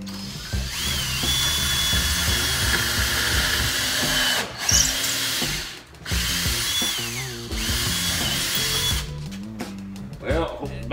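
Craftsman cordless drill driving a screw into a wall stud, a loud close whir running in long bursts with brief pauses, with voices alongside.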